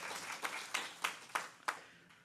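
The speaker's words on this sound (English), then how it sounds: "Hope you can hear the clapping, you guys, are online." A church congregation applauds in a sanctuary, with steady faint clapping under a few sharper, louder claps spaced through the short stretch, with no talking.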